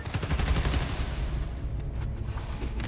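Rapid video-game gunfire from the Spider-Man: Miles Morales game, aimed at Transformers, rattles as a dense continuous burst throughout, loud and close with no speech over it.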